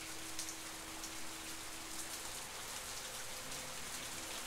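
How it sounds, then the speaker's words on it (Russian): Steady rain falls in the video game The Path, a soft, even hiss of drops on surfaces that continues without a break, moderately quiet and with no voices over it. "Что-то тут как-то дождливо"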